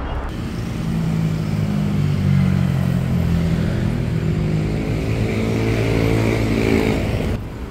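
A motorcycle engine runs steadily nearby for the whole stretch, a low rumbling drone with harmonic hum, parked at a beachside spot on a Manila–Baguio–Ilocos Norte road loop.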